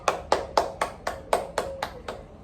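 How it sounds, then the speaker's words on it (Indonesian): Classroom applause for a student's correct answer, heard as eight sharp, evenly spaced claps over about two seconds, close and fairly loud, with no talking. "beri tepuk tangan yang meriah"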